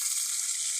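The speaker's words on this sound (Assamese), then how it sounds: "চান্দা মাছ এইটো ভাজি লৈছোঁ।" A brief, soft hiss comes from chanda fish frying in a pan. The sizzle is steady and fairly quiet, with no voices.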